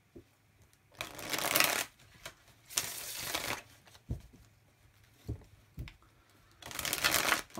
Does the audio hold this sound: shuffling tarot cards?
yes